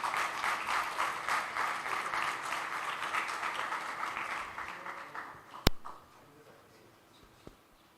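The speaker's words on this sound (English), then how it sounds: "With your round of applause, we'll welcome them on the stage." Audience applause at an education festival panel session, steady dense clapping for about five seconds as guests are welcomed onto the stage, then tapering off with a sharp click and quiet room sound.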